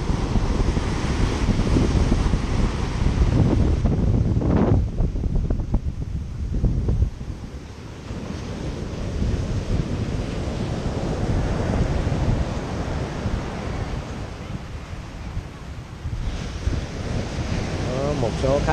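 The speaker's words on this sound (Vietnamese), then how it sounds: "Sóng trắng xóa luôn." Strong ocean waves crash as surf on Nha Trang beach in Vietnam, a loud, continuous roar with repeated breaking surges and wind noise on the microphone, no voices heard.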